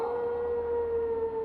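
A wolf howls in a video game trailer, a single long, steady tone holding at one pitch, loud and sustained with no break.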